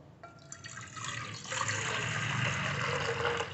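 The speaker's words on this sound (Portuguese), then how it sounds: "Agora que nós vamos colocar a água aqui dentro" Water pours into a couscous steamer (cuscuzeira) with a continuous splashing rush that grows fuller and louder as the pot fills, close by and with no talking.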